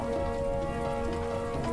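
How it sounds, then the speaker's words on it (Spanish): Steady rain falls in the video game Mr Preeper, a continuous even patter over a soft tonal hum throughout, with no speech. "Voy a dejar el cubo porque está lloviendo."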